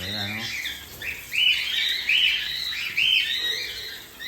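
Pet cockatiels chirp and squawk in repeated bright calls while being bathed, close by, with splashing water noise and a voice at the start.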